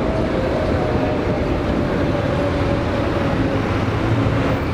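A Medellín metro train at Universidad station produces a loud, continuous rumble with a sustained whining tone over it, holding steady throughout with no talk.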